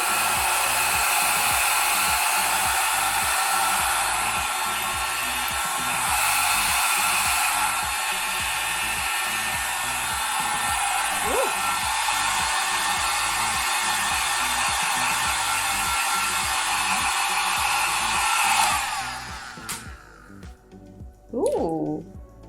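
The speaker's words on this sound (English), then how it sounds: "Straight up in the air with volume and blow dry." A GoGo Mini hair dryer blows steadily and loudly close up while drying mid-length hair for volume, its airflow wavering slightly before cutting off near the end, with people talking softly underneath.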